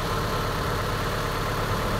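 A 1994 Honda Civic D15B engine idles steadily while warming up, a continuous close mechanical hum with no talk over it.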